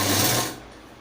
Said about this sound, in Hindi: यहाँ पे बीच में एक सिलाई लगा लेंगे।